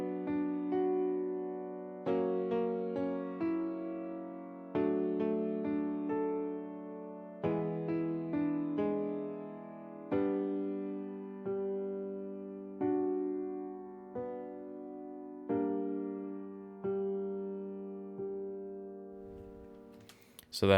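A Sample Tank 4 Berlin Grand Piano Natural patch treated with EQ and a light plate reverb plays a slow run of sustained chords, each struck cleanly and left to ring and decay, heard alone with no talking.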